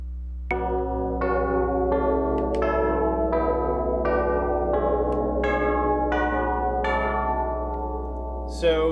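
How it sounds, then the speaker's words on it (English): Individual bells ring one after another in the puzzle video game Quaternion, about ten clear, resonant tones in a steady sequence, each struck note sustaining over a constant low hum, loud and close. "each of these will sound an individual bell"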